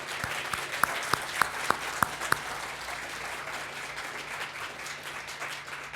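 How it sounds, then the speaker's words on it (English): An audience applauds for student showcases at a mental-health awareness evening. Steady clapping fills the room, and a few sharp, louder claps ring out close by near the start. "if we could just take a minute and just give up the applause for the students who put on the showcases out there"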